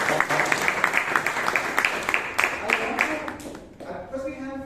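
Audience applause at a Toastmasters meeting in Bangalore, a steady dense patter of many hands clapping for about four seconds before fading into murmured talk.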